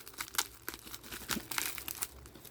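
A small plastic bag from a Temu parcel holding a diamond painting pen set crinkles up close in quick, irregular bursts of rustling while it is unwrapped.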